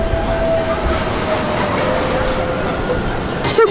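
Disneyland Paris park train rolling along its track, a loud steady rumble with a faint whistle-like tone and a squeal near the end.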